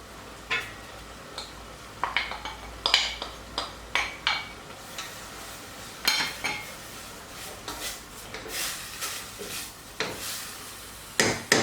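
Chopped apples tumbled into a pot of cooking red cabbage, giving a run of light clinks, knocks and stirring scrapes at an uneven rhythm, close and fairly quiet with no talking.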